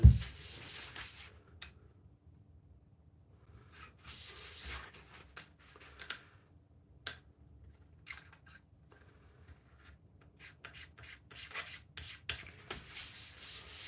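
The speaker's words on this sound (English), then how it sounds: "before they get sprayed, I'll just tack them off and get the little bits of fine dust off them" Fine dust being tacked off sprayed furniture pieces with a tack cloth, giving soft intermittent rubbing and wiping strokes in short bursts with quiet gaps, close and fairly faint, no talking.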